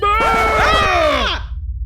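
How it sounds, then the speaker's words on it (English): A person in a comic radio drama lets out a loud, sustained scream with strained, wavering pitch that rises and then slides downward before breaking off, heard close up with a crowd-like murmur underneath. "Why are you screaming?"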